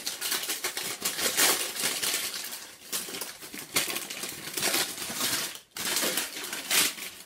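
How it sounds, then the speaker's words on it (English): Baking paper peeled off a large, lightweight piece of honeycomb candy, giving a steady run of close, crisp crackling and tearing rustles with a brief pause near the end and no talk. "let's get the paper off my second piece"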